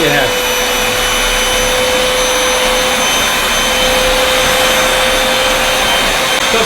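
A cheap upright vacuum cleaner runs with a loud, constant roaring whoosh and a steady motor whine, close and unbroken from start to finish, with no talking.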